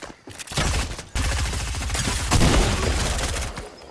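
Rapid bursts of automatic gunfire from a Fortnite firefight, loud and close, with a brief pause near the one-second mark before dense sustained shooting resumes and tapers off near the end.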